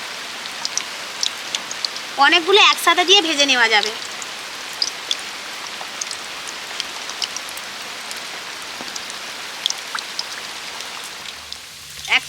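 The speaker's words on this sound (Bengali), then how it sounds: "খুব জোরে বৃষ্টি এসছে" Steady heavy rain patters and hisses throughout, with sharp drip taps on a surface; a person speaks briefly over it partway through, in a kitchen.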